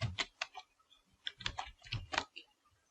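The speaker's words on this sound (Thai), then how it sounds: "ผมจะคลิกนะครับแล้วก็พิมพ์ข้อความคำว่า rustic g o" A computer keyboard clacks as text is typed in Photoshop CC 2020, a quick irregular run of crisp, close keystrokes in small clusters, with no voice over them.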